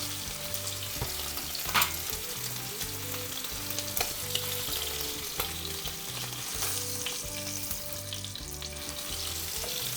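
Store-bought steak sizzles hard in a tilted frying pan, shallow-frying in its own fat, with steady loud crackle and occasional scraping stirs; no voices.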